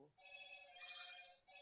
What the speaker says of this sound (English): Sorry about the phone now.